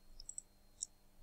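Quiet computer mouse clicks while setting quiz options: two soft taps close together, then a single sharper click a moment later, over faint room hiss.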